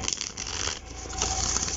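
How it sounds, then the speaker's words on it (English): A new Divine Feminine Oracle card deck by Megan Watterson is riffle shuffled up close, giving a dense, steady papery rattle and flutter that runs for about two seconds without a break. "riffle shuffle isn't bad"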